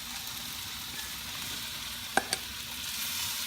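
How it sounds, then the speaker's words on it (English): Squash and string beans with lechon pork belly sizzling steadily in a pan as they are stirred, with a couple of sharp scraping knocks of the utensil against the pan midway. "Let's give it a good stir. Mix it together."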